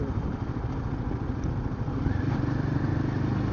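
A Royal Enfield Himalayan 450 motorcycle being ridden on a road in the Scottish Highlands between Ben Nevis and Lochcarron, its engine a close, loud, steady drone with wind rush that rises slightly partway through.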